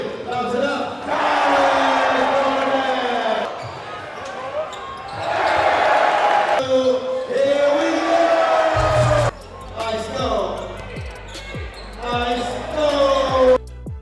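Spectators at a Drew League basketball game erupt in waves of loud cheering and yelling, rising and falling in several surges, with sneaker squeaks and ball bounces under the din.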